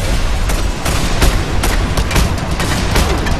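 Rapid, repeated heavy shots from an automatic cannon in the video game Just Cause 2 fire in a loud continuous burst, each blast thudding close and booming.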